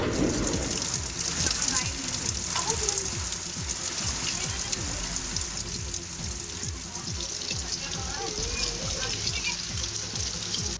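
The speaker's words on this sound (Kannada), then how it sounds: "ಚಿಕ್ಕೋಡಿ ಪಟ್ಟಣ ಸೇರಿದಂತೆ ಹಲವು ಕಡೆ ಸುಮಾರು ಅರ್ಧ ಗಂಟೆಗಳ ಕಾಲ ಸಾಧಾರಣ ಮಳೆಯಾಗಿದ್ದು" Moderate rain falls in the town of Chikkodi, a dense steady patter and hiss that continues throughout, with a voice talking over it at the start.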